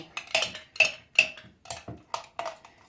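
A spoon clinks and scrapes against a bowl while mixing a filling of mayonnaise and egg, in a quick, irregular rhythm, close and fairly quiet, with no talking.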